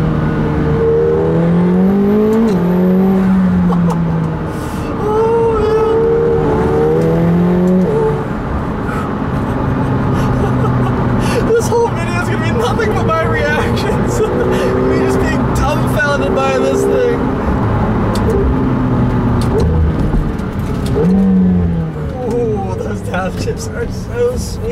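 A 2018 McLaren 720S engine pulls hard under acceleration, its rising and falling revs steady and loud throughout, with someone talking over it.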